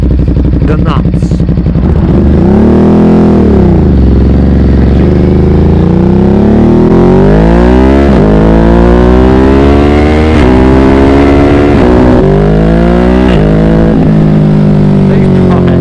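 A motorcycle downshifting and revving hard nearby, its engine pitch sweeping up and dropping again across several gear changes, loud and sustained throughout.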